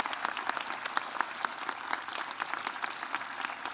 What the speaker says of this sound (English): They deserve your applause.